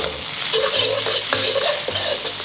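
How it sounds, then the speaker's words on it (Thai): A Thai stir-fry with lemongrass and dried shrimp tossed over high heat in a pan, loud continuous sizzling with repeated scraping stirs and clattering spatula strokes. "แล้วก็ใช้ไฟแรง ผัดให้จนหอมก่อน"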